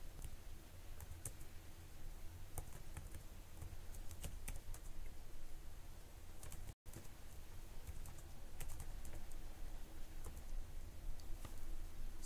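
Typing on a computer keyboard while editing code in the nano text editor, a steady run of quiet, close key clicks with uneven rhythm and a brief gap partway through.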